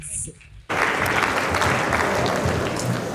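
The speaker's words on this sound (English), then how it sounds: "A round of applause for the..." A brief stretch of quieter room sound gives way to a sudden burst of full audience applause at a retirement ceremony, steady and loud for the rest of the moment.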